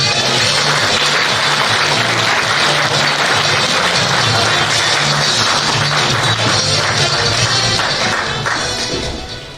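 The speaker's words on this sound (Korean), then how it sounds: "다시 한번 뜨거운 박수 부탁드립니다" Crowd applause at a political party's central founding convention, a dense, steady wash of clapping filling the hall for nearly ten seconds before it starts to thin and fade at the end.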